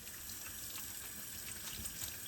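Tap water runs steadily into a kitchen sink while artichokes are washed for a homemade cream soup, a continuous splashing stream with faint irregular spatters, close and alone without voices.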